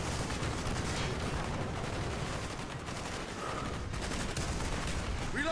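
Rapid, dense machine gun bursts in Call of Duty: Black Ops rattle continuously through a village firefight, loud and close, with shouted voices briefly breaking through.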